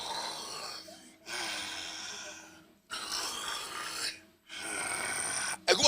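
A man imitates snoring with his voice, three long rasping, breathy snores separated by brief pauses, loud and close, ending with a short sharp noise.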